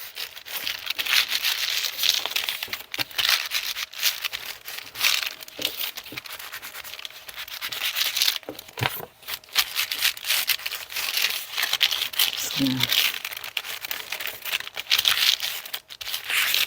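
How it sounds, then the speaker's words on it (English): Crinkly paper is handled and rubbed at close range while working on a junk journal altered playing card, a continuous run of rustling, crumpling and scratchy crackles with irregular bursts. "a little crinkly, this paper sound."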